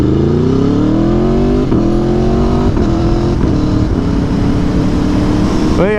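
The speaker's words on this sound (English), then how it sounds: "this is a 2017 Aprilia Tuono V4 1100 RR" A 2017 Aprilia Tuono V4 1100 RR motorcycle engine revs loud and close, its pitch climbing steadily and then holding at a high, rough drone, with a sharp blip just before the end.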